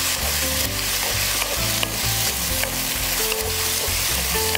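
Sauce with a teaspoon of sugar is stirred in a hot frying pan for a pork tortilla wrap, a loud, steady sizzle with stirring and scraping, close and continuous.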